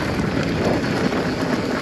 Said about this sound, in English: Oh, it's really windy, eh?